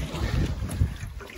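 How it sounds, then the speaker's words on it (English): Strong wind buffets the microphone on open sea water from a canoe, with gusty low rumbling and irregular surges over a short stretch. "when you're actually out there, it's really, really windy."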